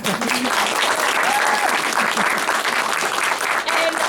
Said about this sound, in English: But it'd be really nice if you can just give them a round of applause now